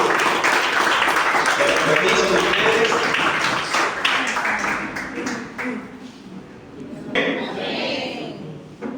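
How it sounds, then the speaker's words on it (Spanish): A church congregation claps loudly for God after a sermon prayer, dense clapping that thins and fades toward the end, with voices mixed in. "Ustedes brindan fuerte el aplauso a Dios."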